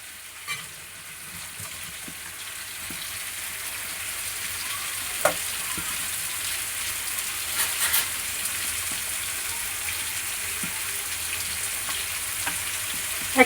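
Ginger, garlic, cumin and whole garam masala paste frying with potato, onion and papaya for a thin chicken curry, a steady hissing sizzle that slowly builds, with occasional clinks and scrapes of stirring.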